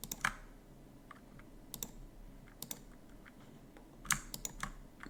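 A computer keyboard key is held while a mouse clicks to select items, giving a few quiet, sparse clicks and taps scattered over a low room hum with no speech.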